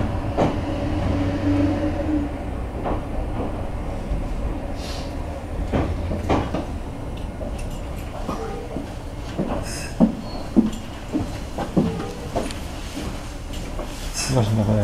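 A Meitetsu electric train arrives at Higashi-Nagoya-ko station with a steady rolling rumble, scattered wheel clicks and clunks over the rails, and a few sharper knocks near the end, heard at moderate distance under faint background noise.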